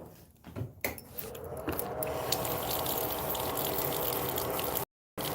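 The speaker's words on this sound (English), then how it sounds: "Running water. Drip, drip." Water runs steadily at a winter stop in Texas, a continuous broadband rush from near that fills most of the stretch after a few quieter knocks at the start, with no distinct drips standing out.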